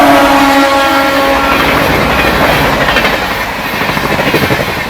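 A Jharkhand Swarna Jayanti Express train runs on an Indian railway line through a loop at a crossing station. It makes a loud, steady, close rumble with rhythmic wheel clatter, and a few brief tonal notes sound at the start.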